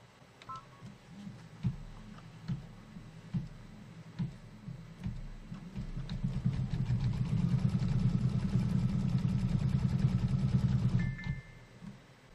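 A home embroidery machine stitches a placement line for a spider body on a quilt block: spaced mechanical ticks and beeps first, then a sustained rhythmic stitching whir that builds and stops abruptly near the end.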